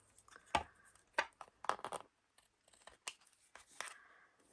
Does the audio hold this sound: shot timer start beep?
no